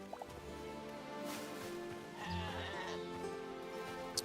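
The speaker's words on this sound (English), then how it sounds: "Found some sheep. They are slightly less derpy." Sheep bleat in the video game Hytale, a few soft calls over a quiet game backdrop with light dripping and clicking sounds, no talk.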